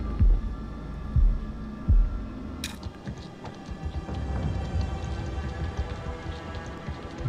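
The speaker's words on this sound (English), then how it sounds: "I feel the heartbeat." Heartbeat effect in the House of Ashes horror video game: three deep, thudding low pulses in the opening two seconds, then a dense rumbling hum with rain-like texture, no talk.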